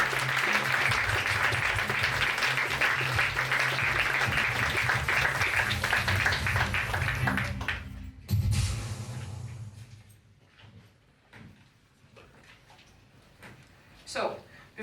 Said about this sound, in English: Big applause for Shredder.